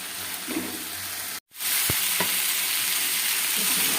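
Goat liver and offal sautéing in a pan with a steady close sizzle and stirring scrapes, broken by a brief silent gap partway through before the frying noise resumes.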